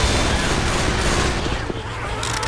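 Dense gunfire from several weapons in Left 4 Dead 2 roars without pause, loud and close, like a rattling volley of machine-gun bursts.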